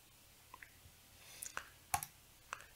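A few faint, sharp mouse clicks are spaced apart against a quiet background.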